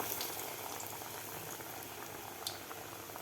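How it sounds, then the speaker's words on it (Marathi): Aloo vadas deep fry in hot oil, giving a constant bubbling, fizzing hiss with small pops and crackles running throughout, heard alone without talk. "आता हे सुद्धा आपल्याला दोन्ही साईडकडून असा गोल्डन कलर होईपर्यंत तळून घ्यायचे आहेत"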